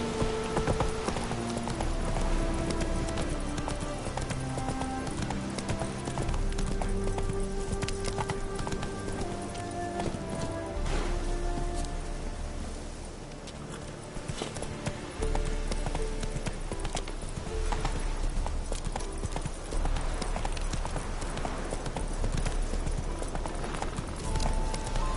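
Horse hooves clip-clopping at a steady gallop rhythm in The Witcher 3, loud and continuous over game music and ambience.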